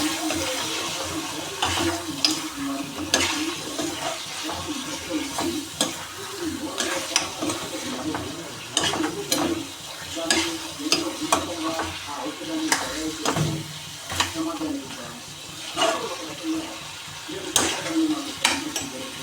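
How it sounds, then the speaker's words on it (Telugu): Chicken being fried with chili powder, salt, turmeric and ginger-garlic paste is stirred in a pan, a close, continuous sizzle broken by repeated scraping and clinking strokes of the spoon against metal. "ఇప్పుడు ఒకసారి కలిపేద్దాం."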